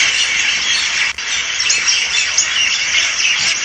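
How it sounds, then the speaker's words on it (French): A dense chorus of birds squawking and chirping continuously at dusk in Uzbekistan, loud and close, with overlapping high calls filling the whole stretch. "Le bruit des oiseaux juste avant la nuit."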